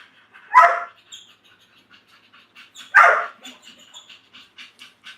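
Two sharp, loud dog barks a few seconds apart, with faint clicks and quiet movement between them.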